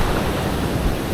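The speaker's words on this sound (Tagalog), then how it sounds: "Grabe, lalaking ng alon." Loud, continuous wash of surf, a dense rushing roar like waves breaking close by, with no voices.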